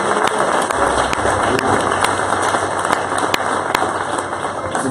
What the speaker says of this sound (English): Would you give Jesus a hand clap of praise?